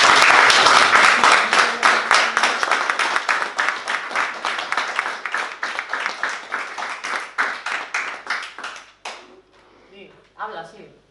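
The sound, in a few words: audience applause for two survivors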